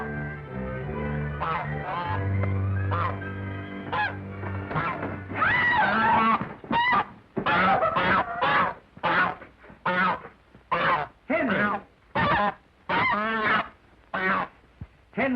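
Repeated loud goose honks, a rapid series of separate calls that gets more rhythmic as it goes on, preceded by a sustained tone and some talking in an old film soundtrack.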